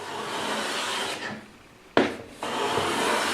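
Rough planing strokes of a very sharp, high-angle hand plane taking fine cuts across wood: two steady rasping passes broken by a short pause and a sharp knock, close and alone.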